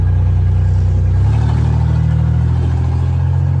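Loud, steady engine rumble from an LS-swapped OBS Ford truck on a badly installed lowering kit, a deep droning note that shifts slightly in pitch partway through and continues without pause.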